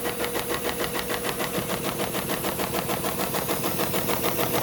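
A SEWPRO 273-6040 automatic sewing machine runs a diamond stitch cycle with heavy thread at about 400 RPM, giving a steady, fast mechanical chatter of rhythmic pulses that stays even and close throughout, with no talking.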